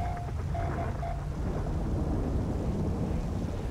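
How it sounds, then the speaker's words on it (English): A heavy thunderstorm in a GTA roleplay game, with steady rumbling thunder and rain noise throughout and a faint tonal hum early on. "Haven't seen a thunderstorm in here in a while."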